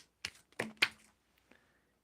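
Tarot cards shuffled by hand in a few quick, papery bursts of riffling and slapping, close and fairly quiet, followed by a faint tap, with no talking.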